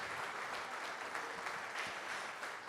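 Congregation at an evening Portuguese-language church service clapping loudly and continuously, a thick wash of many hands that holds steady throughout the short stretch.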